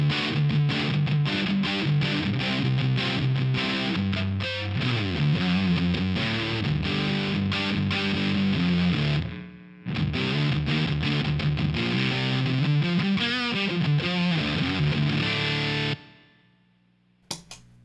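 Electric guitar driven through a Stone Deaf Fig Fumb fuzz pedal, thick distorted chords and riffs played loud and continuously, a brief gap near the middle, then ringing out and cut off near the end.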